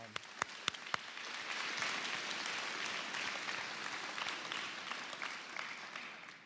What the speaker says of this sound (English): So a very good round of applause for our